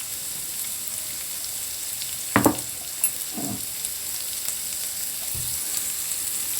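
Okra (bhindi) frying in a pan over raised gas heat in a home kitchen, a steady soft sizzle throughout with a few brief stir clatters, heard alone without talk.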